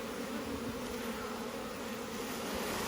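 Honeybees humming inside an open beehive during a hive change, a steady dense buzz of many insects held close and unbroken throughout.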